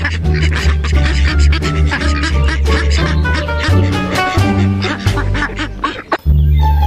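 A toy duck quacks in repeated squeaky bursts over loud music, close and steady throughout, with a brief break near the end.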